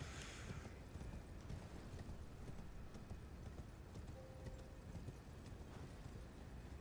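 Faint, steady horse hooves clip-clopping in Elden Ring, a regular rhythm sitting low under a constant rumbling background.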